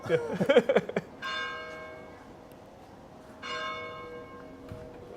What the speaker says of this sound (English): We just heard the bell. Right. The bell tower rings every hour.